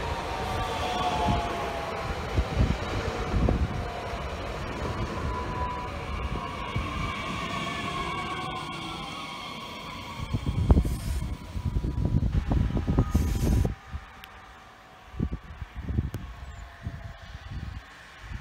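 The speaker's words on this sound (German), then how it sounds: "Jetzt kommt die RB24 in der Gemeinde ihres Zielbahnhofs an." An RB24 regional train pulls into a station on a single-track line, its drawn-out rumble and shifting tonal whine rising and falling. Louder clatter comes near the middle, then the noise thins out toward the end.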